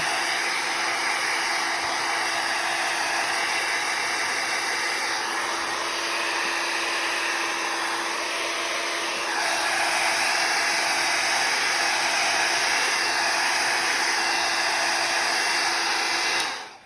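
A heat gun blows steadily and loudly at close range while drying an embossed craft project, a continuous hot-air roar with a slight shift in pitch partway through, and no talking over it.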